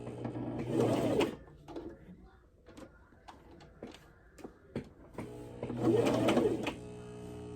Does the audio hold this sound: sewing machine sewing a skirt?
yes